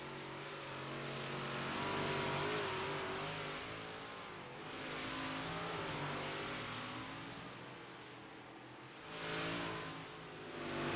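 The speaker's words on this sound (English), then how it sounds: "On number 25, machine out onto the racetrack of Pat Gallagher." A race car pulls out onto the dirt oval at Lernerville Speedway for warm-ups, its engine revving in rising and falling surges over the whole stretch, heard from a distance amid track ambience.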